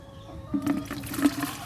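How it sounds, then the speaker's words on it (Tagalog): Water pours into a container holding chili peppers, meant as drinking water for chickens. After a short quiet start it becomes a loud, close gush and splash that carries on to the end. "at pupunuin natin ito ng tubig."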